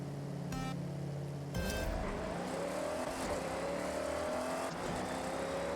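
Dodge Super Bee launching in Forza Horizon 6, engine revving then surging with a rising, strained pitch as it accelerates hard, with gear-shift breaks and a steady roar throughout.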